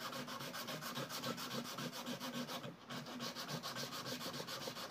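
Steady back-and-forth rubbing of sandpaper by hand on a handmade knife, continuous rhythmic strokes, close and fairly loud, with no voices.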